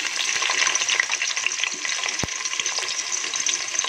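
Sliced onions with cinnamon and cloves fry in hot oil, a continuous crackling sizzle with scattered pops and one sharp knock partway through.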